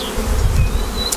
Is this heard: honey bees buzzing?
yes